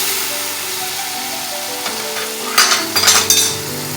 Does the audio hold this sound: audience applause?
no